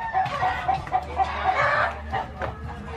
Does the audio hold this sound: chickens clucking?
yes